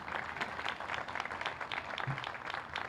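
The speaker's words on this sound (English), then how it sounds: "go ahead, you may applaud." A crowd at a building dedication ceremony claps in a soft, steady patter that sounds somewhat distant and evenly sustained, with no speech over it.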